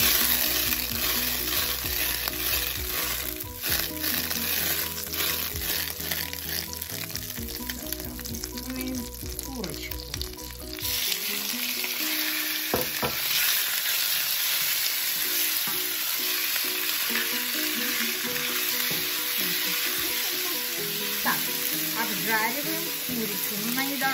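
Food sizzles and fries steadily in a hot pan, with scraping and stirring from a spatula through the first half, then a calmer continuous sizzle as cooking goes on.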